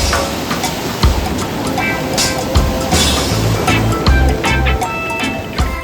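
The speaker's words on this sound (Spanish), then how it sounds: "Y las olas, ni qué decir." Ocean surf rolling onto a beach in El Salvador, a continuous broadband wash with periodic swells and crashes, fairly close and steady throughout with no talking.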